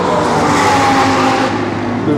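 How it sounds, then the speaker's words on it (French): A V10 engine in a Trofeo race car at a burnout event roars loudly and continuously from close by, with a steady rasping drone and no pauses. "Le V10 de la Trofeo."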